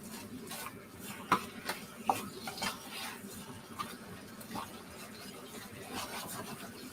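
Stirring a beef, black bean and cashew stir-fry in a pan with roughly chopped garden mint mixed through, with a soft scraping base and a few sharp utensil clinks against the pan.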